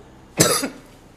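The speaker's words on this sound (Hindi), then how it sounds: "ये अचानक तुम्हें खांसी क्यों हो गई?" A single short, sharp cough, close and loud, followed by quiet.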